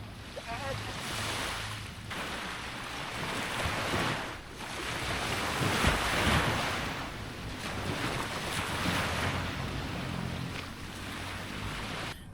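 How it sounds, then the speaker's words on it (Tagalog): Surf rolls in at a beach in Dinadiawan, Dipaculao, Aurora, with waves rising and falling in broad surges under heavy wind buffeting the microphone. "Medyo lumalakas na kasi yung alon."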